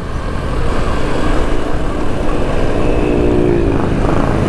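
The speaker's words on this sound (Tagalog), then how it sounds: "Tricycle sa kaliwa, tricycle sa kanan." Motorized tricycles with sidecars pass steadily on a road in Dolores, Quezon, a loud continuous engine drone rising and holding without talk.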